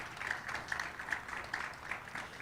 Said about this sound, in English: So let's give a big round of applause to all of our leaders.